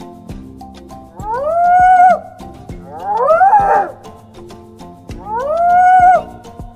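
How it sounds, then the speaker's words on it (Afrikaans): A hyena gives three loud, close calls, each a drawn-out whoop that rises in pitch and then levels off, with short pauses between them and no voices. "Dit is 'n hyena."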